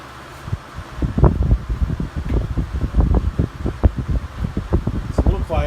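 A heater fan on its low setting whirs with a rattle from a loose front grate and broken pieces not attached to the carriage, a close, uneven fluttering hum while a voice talks over it.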